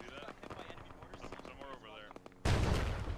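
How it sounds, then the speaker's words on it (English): Mortar shells bursting nearby in the Arma 3 military video game: a sudden loud, broad explosion roars in near the end after a stretch of busier gunfire and battle noise, with voices talking underneath. "Are those our mortars?"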